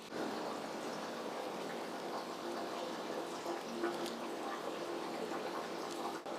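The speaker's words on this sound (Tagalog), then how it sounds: "dumadaan ang tubig sa hose dito mismo, diretso mula sa lupa" Water runs steadily through a hose fed straight from the ground inside an abandoned ritual hall, a continuous close-by rushing and trickling wash with no break.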